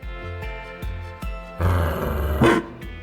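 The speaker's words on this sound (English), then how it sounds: "Oh, shut your trap, you damnable dog" A dog growls and barks in the video game Trails Through Daybreak II, with deep rhythmic grunting bursts followed by a louder, rougher snarl, close and unaccompanied by talk.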